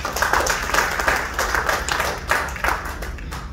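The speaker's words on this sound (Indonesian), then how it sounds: "Kita berikan tepuk tangan lagi." An audience claps at a Lions Club gathering in Indonesia, close and steady for several seconds with a loose, uneven rhythm.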